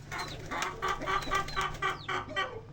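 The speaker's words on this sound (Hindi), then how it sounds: "मुर्गी मुझे देख के ना बोलना शुरू कर देती है, जैसे अंडा देने वाली होती है ऐसे बोलती है।" A hen clucks repeatedly and close by in an excited, rhythmic series of calls, with a faint low hum underneath.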